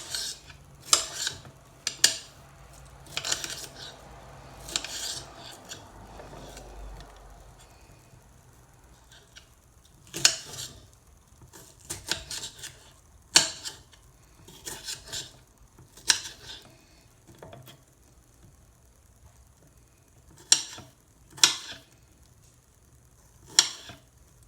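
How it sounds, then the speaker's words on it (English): A knife slices a red bell pepper on a cutting board, giving a series of sharp, separate chopping taps in small clusters with quieter gaps between them, close up and with no talking. "go ahead and cut your red peppers up"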